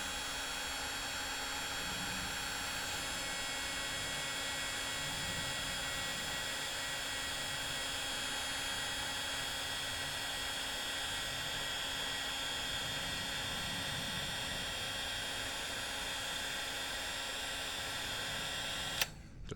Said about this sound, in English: cordless heat gun.